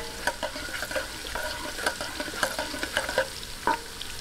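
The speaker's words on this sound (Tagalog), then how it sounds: "Lagay po natin ang bawang. Ayan. Atin lang pong gisa-gisahin hanggang mag-light brown." Garlic sautéing in coconut oil, a soft sizzle broken by frequent sharp spatula scrapes and clicks against the pan, irregular and close, with no speech.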